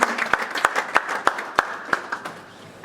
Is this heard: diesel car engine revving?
no